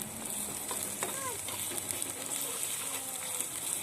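Tomato with chopped spices and chili powder frying in a pan at a rooftop picnic, a steady close hiss of sizzling oil with light stirring scrapes and faint bird calls in the background.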